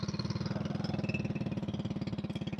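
A motorcycle engine running close by, a fairly quiet, even chugging pulse with rapid regular beats, steady throughout and without speech.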